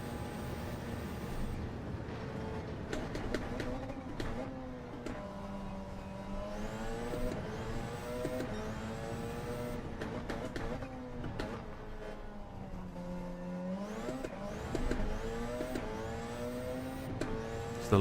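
A McLaren long-tail race car laps Le Mans in a racing video game, its engine whining and rising and falling through gear changes continuously, with occasional talk over it.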